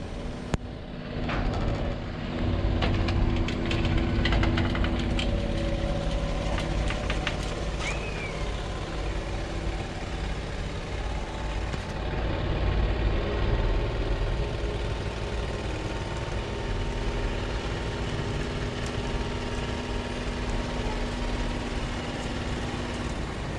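A vehicle's engine idles with a steady mid-low rumble while it is loaded onto a Kaufman Mini 5 trailer. The running hum stays constant throughout, with faint clanks and a brief squeal early on.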